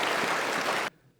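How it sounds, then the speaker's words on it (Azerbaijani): An audience claps at a film presentation at the Nizami Cinema Center, a dense, even wash of applause that stops abruptly partway through. "Saadət xanım burada, alqışlayan Saadət xanım."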